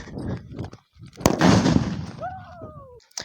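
A Diwali firecracker goes off in a village with one sharp, loud bang, followed by a burst of crackling noise as people talk nearby.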